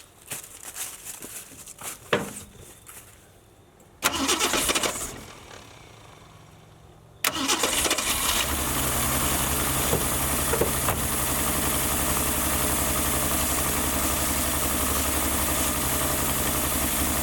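A Ford Maverick's engine, run after sitting 26 years, cranks briefly with clatter, catches once and dies, then starts and settles into a loud, steady, rumbling idle that continues close by with no talking.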